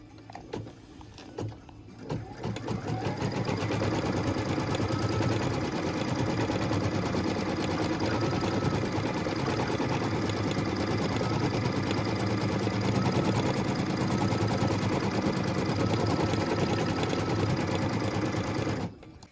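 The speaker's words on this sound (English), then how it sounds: "we're going to stitch the ornament base placement line directly onto the stabilizer" An embroidery machine stitches an ornament base placement line in white thread onto stabilizer, a steady close mechanical whir with rapid needle chatter that starts after a couple of seconds of lighter clicks and runs continuously, alone, without voices.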